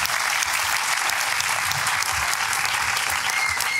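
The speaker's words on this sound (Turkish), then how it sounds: "filmimizin yönetmeni Turan ve senaristi Furkan'a bir alkış rica ediyorum sizden" Audience applause at a short film competition award night in Sultanbeyli: a dense, continuous wash of many hands clapping, loud and even for the whole stretch, with no voices over it.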